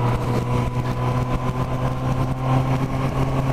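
A Honda CB1000R motorcycle engine runs close and loud with a steady, even drone throughout, with no clear break or change in pitch, riding under wind noise.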